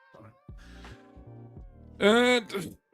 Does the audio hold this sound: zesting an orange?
no